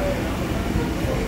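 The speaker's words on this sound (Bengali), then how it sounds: "তো বন্ধুরা আবার কিন্তু এগিয়ে যাচ্ছে ট্রেন," Train rolling along on a Bengal suburban line near Kalyani, a steady broadband rumble of wheels and carriage noise throughout this brief stretch, close and continuous with some speech-like murmur mixed in.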